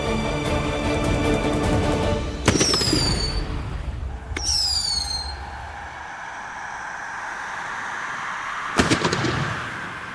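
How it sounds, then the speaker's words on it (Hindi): A flare gun fired in a TV show scene, sharp bright bursts with fizzing, whistling tails, one loud pop followed by a second crackling burst and a later bang over steady background noise. "फ्लेयर गन चला दी इसने, अब पुलिस आएगी।"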